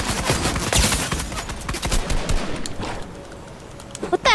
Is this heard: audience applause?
no